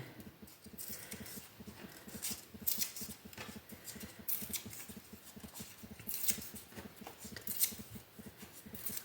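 Scissors cutting paper into thin strips for a children's appliqué craft, a run of repeated close snips and crisp cuts in an irregular rhythm, fairly quiet, with no talking.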